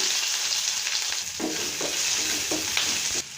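Mustard seeds, cumin and onion sizzle in hot oil for a lentil dish, with a constant bright frying hiss and several soft crackling pops and stirring scrapes up close, no voices.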